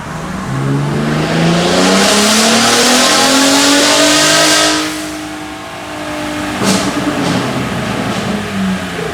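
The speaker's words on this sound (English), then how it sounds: "I'm gonna try to replicate that previous dyno pool." Gen3 Ford Raptor fitted with a Garrett PowerMax turbo revs hard on a dyno, engine pitch climbing steadily through a long pull for several seconds, then easing off before a second, rougher burst of throttle; loud and close, with no talking.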